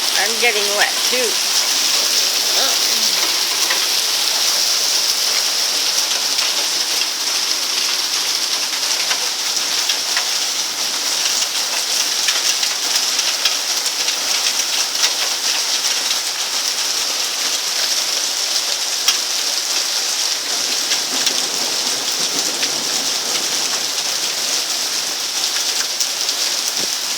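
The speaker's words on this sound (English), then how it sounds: "Oh wow, is it ever raining heavy?" Heavy rain pours steadily during a worsening thunderstorm, a dense, constant hiss of drops hitting surfaces that runs loud and unbroken from start to finish, with no distinct thunder standing out.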